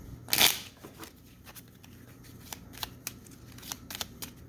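Lenormand cards shuffled by hand: one soft riffling burst, then a run of light, faint taps and flicks as the deck is worked, close and quiet with no talk.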